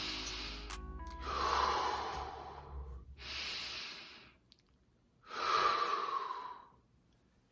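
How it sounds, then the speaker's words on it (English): Three long, deep inhalations drawn in through the nose as part of a slow breathing exercise, each a few seconds of breathy rush separated by short pauses, close and fairly quiet with no talking. "you're breathing in through your nose. You are taking full, deep, and long breaths"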